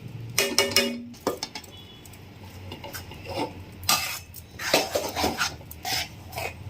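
Chalividi flour being mixed by hand in a metal vessel, with repeated clinks and scrapes against the sides, close and moderately loud in uneven bursts.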